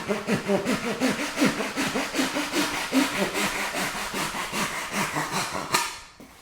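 Hard foam casing on a turkey taxidermy form being cut, a steady rhythmic back-and-forth rasping of quick repeated strokes that runs close and fairly loud throughout, then stops abruptly near the end.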